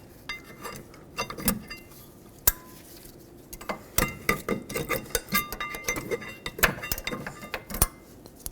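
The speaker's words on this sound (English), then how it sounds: "Now remove your brake pads." Metallic clinks, taps and scraping as pads come off the rear brake of a 2001-2007 Toyota Highlander, a steady run of close, irregular knocks with no talk.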